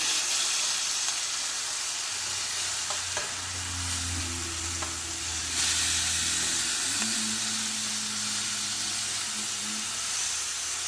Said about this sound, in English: here you can start shredding it in the skillet